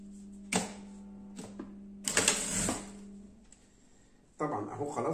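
A pedal-operated sewing machine stitches an elastic waistband in short mechanical bursts with pauses between them, while someone talks over it at close range.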